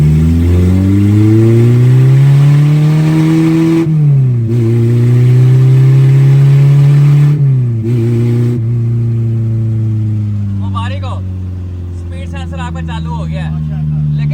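A Suzuki Khyber fitted with a B18C engine accelerates along a main road, its engine note rising steadily through the gears with brief dips between shifts, loud and close from inside the car, settling lower toward the end with faint chirps.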